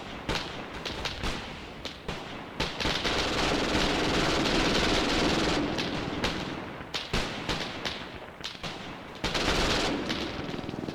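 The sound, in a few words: MG42 machine gun fire in a video game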